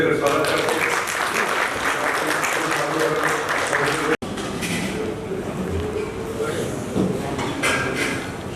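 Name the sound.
audience applause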